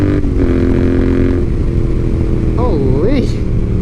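Royal Enfield Interceptor 650 twin fitted with a DNA air filter and Lextech exhaust, idling then revving in a couple of sharp rising-and-falling blips, loud and close, with a voice speaking over the engine.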